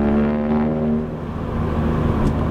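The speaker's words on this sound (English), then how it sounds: "I have my car straight piped now and it sounds amazing, I think. It's really loud" A car with a straight-piped exhaust idling and revving around 2000 RPM, a deep steady rumbling drone, loud and close, with no talk.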